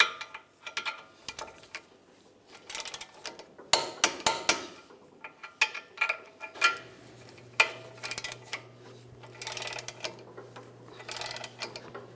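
A ratchet tightening ball joint bolts on a 1999-2003 Toyota Camry, clicking in quick irregular bursts with short pauses between runs, close and fairly loud against a quiet shop.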